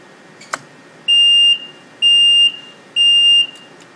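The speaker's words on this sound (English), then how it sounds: "So the alarm went off when we unplugged the thermocouple from the load." A furnace's alarm sounds after the thermocouple is unplugged from the load: three loud, even electronic beeps about a second apart, each lasting roughly half a second, with one sharp click just before them over a steady background hum.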